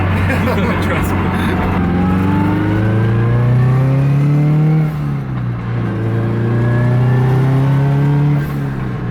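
Turbocharged Scion FR-S running an E85 tune, its engine revving loudly from inside the cabin while driving, pitch climbing and falling in steady sweeps, with some talk mixed in.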